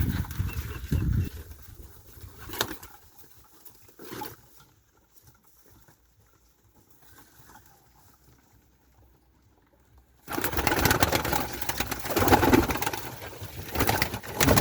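Turkish takla pigeons coo and shuffle at a loft, soft calls and wing patter near the start, a quiet lull, then a louder burst of close cooing and fluttering for the last few seconds.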